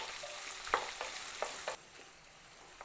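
Finely chopped big onions fry in a pan for tomato rice, a close sizzle with rhythmic stirring scrapes that fades quieter after a moment.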